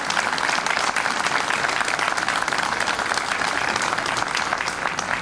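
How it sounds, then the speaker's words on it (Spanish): A crowd applauds at a Carabineros Day parade in San Carlos, with loud, continuous clapping from many people that holds steady throughout, with no speech. "Brindémosle un aplauso cariñoso a esta gente que nos hace vivir tranquilos."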